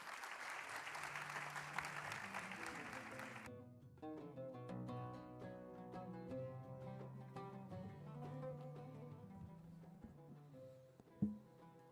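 Audience applause closes a panel session at a 2024 financial academy forum, a soft, dense patter that stops abruptly after a few seconds and gives way to quiet instrumental music that carries on to the end.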